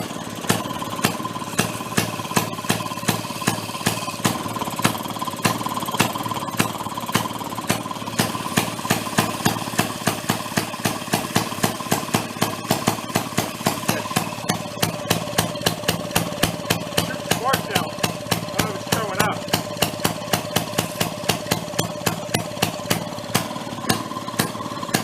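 A Maytag 92 hit-and-miss engine picked up at a flea market chugs close by, its firing beats thumping in a fast, fairly steady rhythm for the whole stretch without a break.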